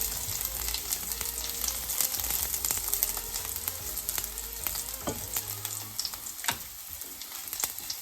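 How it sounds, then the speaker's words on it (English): Chopped garlic frying in a pan for chilli paneer, a continuous close crackling sizzle with occasional stirring scrapes and small pops, no voices. "garlic is fried now"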